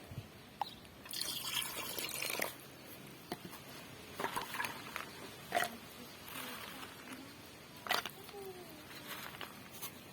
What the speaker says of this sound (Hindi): अब काला मिट्टी को घोलने के लिए चलती हूँ